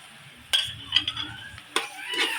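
Red tomatoes sautéed and stirred in a pan for pork pochero, with a few sharp utensil scrapes and clinks against the pan over a soft, low sizzle.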